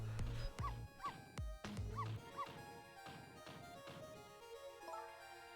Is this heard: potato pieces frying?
no